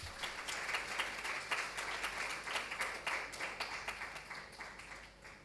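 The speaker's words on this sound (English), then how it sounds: "So, another round of applause, please, for her." Audience applause at a corporate governance colloquium honouring a speaker: a fairly faint, steady patter of many hands with distinct rhythmic claps standing out, continuing evenly without talk.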